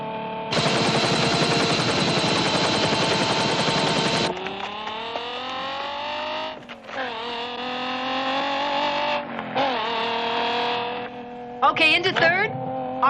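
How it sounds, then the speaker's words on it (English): A car engine revs and downshifts from fifth to fourth gear at high RPM, loud and near, with a harsh rattling burst followed by shifting engine tones. "here's the downshift sequence again. I'm in 5th. Dropping to 4th."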